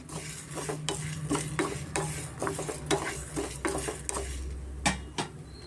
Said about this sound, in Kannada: ಮೆಂತ್ಯ ಮತ್ತು ಸಾಸಿವೆ ಸ್ವಲ್ಪ ನಾನು ಚೆನ್ನಾಗಿ ಫ್ರೈ ಮಾಡ್ಕೊಂಡಿದ್ದೀನಿ